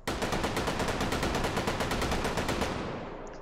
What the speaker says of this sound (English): So yeah, this is the Bren gun.